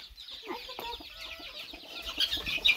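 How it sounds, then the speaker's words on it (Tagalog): Small young chickens clucking near a coop, soft chirps and short clucks scattered close by, with faint background noise. "Yung iba nating mga manok ay maliliit pa."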